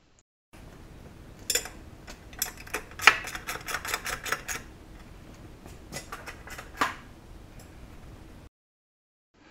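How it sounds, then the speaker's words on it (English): M8 cover bolts and washers being tightened on a car's rear axle carrier, heard as quick irregular ratchet clicks in clustered bursts, fairly faint with no talk. "it's time for the M8 cover bolts and washers to be tightened"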